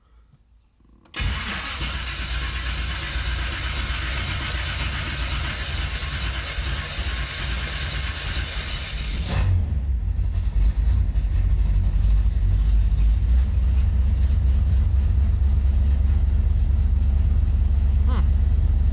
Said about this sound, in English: I'm going to go ahead and try to crank this thing up and see if this fixes our issue